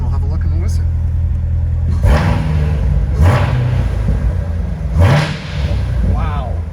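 A supercharged 650 hp 2016 Chevrolet Corvette Z06 idles with a deep, steady rumble, then is revved hard three times in sharp, rising bursts that fall back to idle, loud and close.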